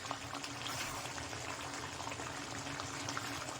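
A pot of thick tamarind curry bubbling and simmering steadily up close, a constant dense gurgle with no voices.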